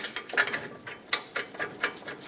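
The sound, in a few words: ratchet tightening Ford E-350 brake caliper bracket bolts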